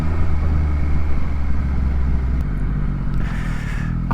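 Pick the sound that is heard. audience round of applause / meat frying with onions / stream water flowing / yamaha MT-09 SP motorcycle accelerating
yamaha MT-09 SP motorcycle accelerating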